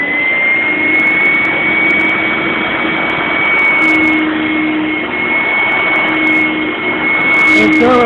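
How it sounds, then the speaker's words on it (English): A Dirt Devil Spot Scrubber runs with steady suction, a loud, close, continuous whine with a high tone that dips slightly partway through. "If you have to, stand at an angle and suck it up like that."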